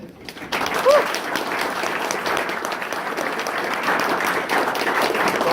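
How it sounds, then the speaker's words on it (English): An audience gives sustained applause at a ministerial event, with many hands clapping steadily at close range for several seconds. "a round of applause for everybody that's been involved"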